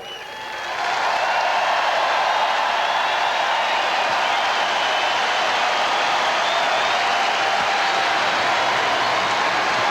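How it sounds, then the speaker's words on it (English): A stadium crowd at Lambeau Field in 2003 breaks into applause for Green Bay Packers alumni. Dense, steady clapping swells in after a moment and holds loud and even to the end. "One more big round of applause, everybody."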